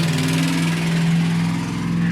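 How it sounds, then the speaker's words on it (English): A Ford engine with an exhaust leak from worn manifold gaskets runs steadily at idle, a loud close rumble with a rapid ticking puff through the exhaust. "That Ford sounds like it needs some manifold gaskets or something. Got quite the exhaust leak."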